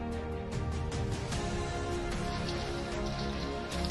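Steady rain pours down at a bridge construction site, a dense, even hiss of drops striking surfaces that continues unbroken and fairly loud throughout.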